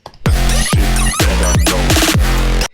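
A loud, punchy hybrid trap drop with deep booming bass hits and bright layered synths, driving and dense, with chopped vocal sample stutters near the end.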